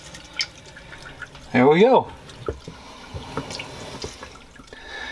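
Water streams from a faucet in a Winnebago Voyage 2831RB RV in a short, steady gush lasting about half a second, close by, with a brief remark spoken afterward over quiet background drips.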